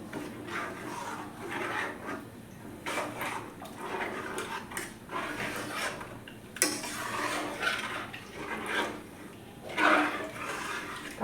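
Water being poured into a cooking pot of atop rice and curry leaf papad mixture, a steady close splashing pour with light clinks of the pot, no talk.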